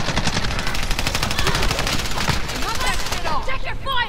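Rapid automatic gunfire from Call of Duty: Resurgence rattles in tight bursts, loud and close, with a player's voice breaking in near the end.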